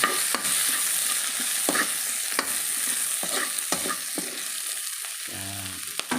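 Salted chicken adobo sauté stirred in a hot pan, with a steady sizzle under repeated scraping strokes of the spoon, close and fairly loud.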